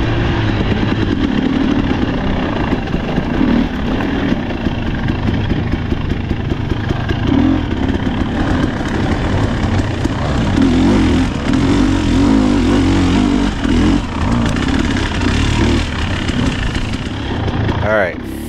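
A 2024 Husqvarna TE 300 Pro dirt bike on Michigan sandy single-track trail runs loud and close throughout, its engine buzzing and revving up and down without a break while a rider talks over it.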